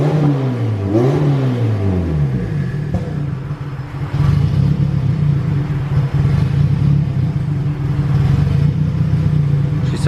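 A Honda Civic Si with a swapped B18C1 engine and Precision turbo revs briefly, then settles into a steady, loud, rumbling idle close by.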